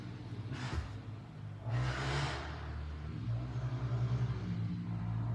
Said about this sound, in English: I think this is a motorcycle.